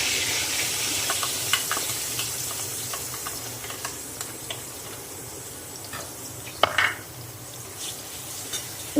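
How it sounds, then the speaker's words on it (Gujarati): Dabeli masala being stirred into hot oil in a pan for Kutchi street-style dabeli, giving a steady soft sizzle with scattered scraping and clinking from the spoon, plus one louder knock near the end. "તેલ આવી ગયું છે. એમાં આપણે આ મસાલો તેલમાં મિક્સ કરી દઈશું."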